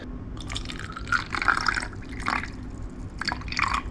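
Water poured into an electric egg cooker in a kitchen, a series of splashy dripping and trickling bursts with short pauses between them, close and fairly clear.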